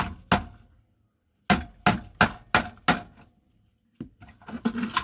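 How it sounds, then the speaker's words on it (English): A hammer knocks pieces off scrap metal in a skip-dive haul: sharp, close metallic clanks in quick bursts, roughly ten blows with short pauses between groups, each ringing briefly, and no talk. "just hammer those off"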